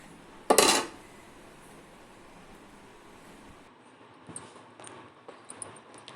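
Rice and its soaking water are tipped into hot tempered masala in a pan for chitranna, giving one short, loud splashing hiss, followed by a quieter stretch and a few light clinks of utensils.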